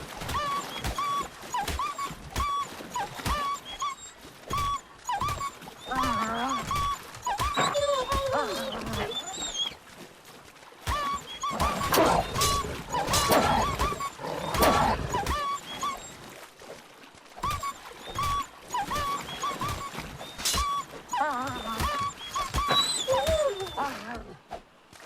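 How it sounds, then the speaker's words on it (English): Dogs fight in the video game ARK: Survival Ascended, with repeated snarls, yelps and whimpers over steady game music and effects, loudest in bursts around the middle. "On my way back down, I picked a fight with a few dogs."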